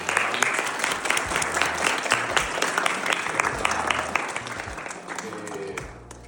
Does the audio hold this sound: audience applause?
yes